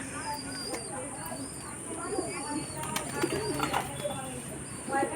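A flock of pigeons coos and rustles nearby at feeding and water time while a person talks, with faint chirps over a steady hum.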